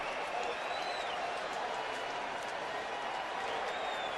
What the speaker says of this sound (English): Ethier's had to bat a couple of times today with this Dodger Stadium crowd ringing in his ears.